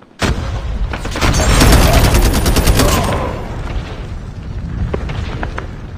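Rapid bursts of gunfire from the mobile shooter game COD Mobile, a dense, loud volley that rattles for about three seconds and then tapers into scattered shots.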